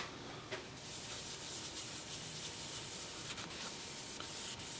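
Sandpaper rubs against very hard wood spinning on a lathe, a steady close hiss with faint motor hum underneath and a few brief louder scuffs.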